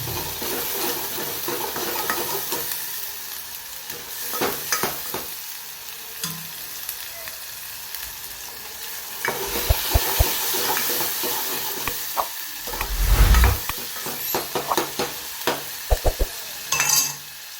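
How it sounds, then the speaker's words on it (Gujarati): Spice masala stirred and roasting in a pan for a bottle gourd and chana dal dish, a steady close sizzle broken by scraping spoon strokes and a few louder clattering stirs, no talking. "સરસ મિક્સ કરી લઈએ."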